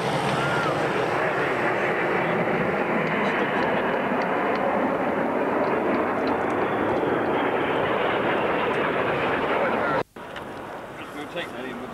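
Aircraft at the RAF Manston airshow in 1990 give a steady, loud roar of jet engines overhead during a formation display. It is broad and sustained, then cuts off sharply near the end, leaving quieter ambience.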